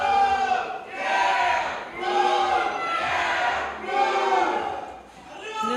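A wrestling crowd chants rhythmically in support of Chris Carter at a lucha-style match, loud waves of unison voices rising and falling roughly every second and a half, filling the arena.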